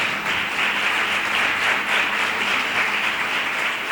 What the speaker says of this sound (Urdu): یسوع کے لیے زوردار تالیاں بجائیں, ایک آواز ہو کر تالیاں بجائیں.